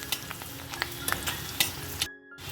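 Spices frying in a pan for a vegetarian pointed gourd curry sizzle steadily, broken by several sharp stirring scrapes and clicks, fairly close, before a brief drop into silence.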